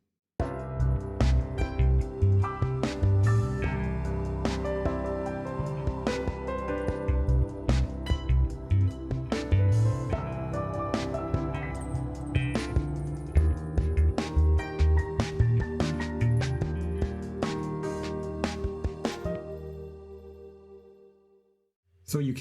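Synth Asian strings patch with a sitar-like twang plays over a full rock arrangement with bass and drums, dense and continuous before fading near the end.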